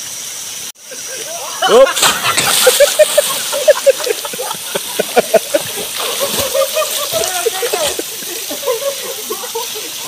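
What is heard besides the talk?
waterfall at an inland resort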